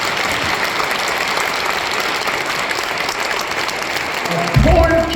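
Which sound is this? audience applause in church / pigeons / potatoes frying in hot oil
audience applause in church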